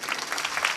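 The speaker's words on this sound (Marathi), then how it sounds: "टाळ्या वाजवा ना जोरदार" The audience at a Marathi kirtan claps loudly. The applause is a brief, dense, steady wash of many hands, with no voices over it.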